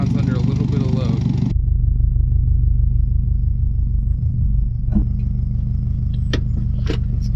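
A rebuilt Subaru Impreza WRX STI drives under load, its engine giving a deep, steady rumble close to the mic. Talk runs over the start, and a few faint clicks and knocks come later.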